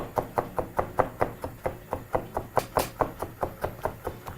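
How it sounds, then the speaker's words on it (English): A knife chops ginger on a cutting board in a steady, fast rhythm of about four crisp knocks per second, close and clear with no talking. "Now just to finish off that chopped ginger, proceed to go over it about a fifth time."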